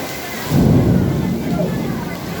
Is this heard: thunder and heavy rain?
yes